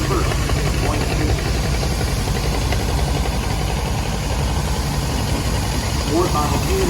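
A 1948 Farmall tractor engine runs steadily during an antique tractor parade, a loud continuous mid-pitched rumble and clatter with a faint voice over it.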